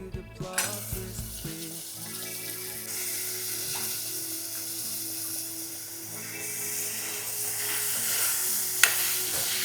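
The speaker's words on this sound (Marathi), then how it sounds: "बटाटे छान परतले" Washed potatoes sauté in a pan with turmeric-coloured onions, giving a steady close sizzle and frying hiss with a few utensil clinks and stirring scrapes at the start, no talk.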